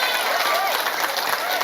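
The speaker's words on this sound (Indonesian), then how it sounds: "Tepuk tangan dulu." A crowd at a religious gathering claps and applauds continuously at close range, while voices murmur and talk over the clapping throughout.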